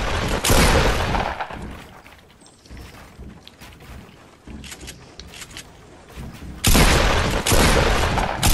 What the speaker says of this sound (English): Someone shooting this down.